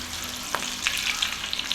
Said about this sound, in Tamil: எண்ணெய் காஞ்சிருச்சு இப்போ நம்ம முட்டைக்கோஸ் போட்டுக்கலாம்